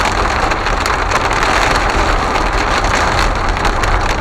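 Hail and ice pelt down during a huge hailstorm, a loud, dense, unbroken clatter and hiss of stones striking the road and surfaces nearby, with no voices.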